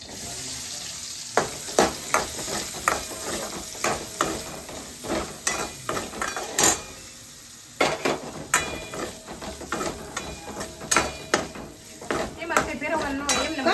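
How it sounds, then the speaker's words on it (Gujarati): Capsicum peppers frying and being stirred in a pan for paneer tikka, a loud continuous sizzle close up, broken by frequent scraping and clanking of a spatula against the metal pan, with no pauses. "હવે આપણે આ કેપ્સિકમ મરચાં છે ને એની ફ્રાય કરી નાખશે એટલે પાકવામાં જલ્દી થાય"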